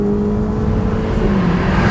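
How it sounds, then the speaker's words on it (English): Ferrari Portofino M with its exhaust muffler deleted, a loud, steady engine drone with a clear tonal note that shifts slightly in pitch, heard alone without talk. "They've also deleted the muffler in the exhaust."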